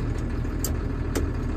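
A 2002 John Deere 7810 tractor sits in low range gear with its engine running at a steady low idle. The throb stays even throughout, broken by two brief clicks.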